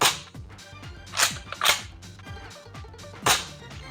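Nerf N Series Strikeback blaster firing foam darts through a chronograph, giving several sharp snapping pops spaced unevenly over a few seconds, close and fairly loud with faint mechanical clicks between shots.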